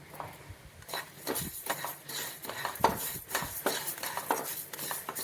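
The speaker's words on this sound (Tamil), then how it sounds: "பாசிப்பருப்பு அதே ஈக்குவல் அமௌண்ட் போட்டிருக்கேன். இதை நல்லா வறுத்துக்கிடுவோம்." Moong dal being dry-roasted in a pan while being stirred, with repeated scraping and rattling strokes of a utensil against the metal throughout, close and fairly steady in rhythm.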